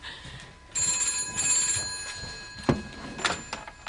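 A telephone in a doctor's surgery rings with a steady electronic trill that starts abruptly and carries on, with a couple of brief clicks or knocks near the end, no one speaking.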